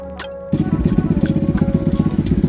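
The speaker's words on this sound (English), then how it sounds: "The bike is going to stay running while I'm working" A Lifan KP Mini 300 motorcycle engine starts and keeps idling close by, with a loud, steady, rapid chugging pulse that runs without interruption.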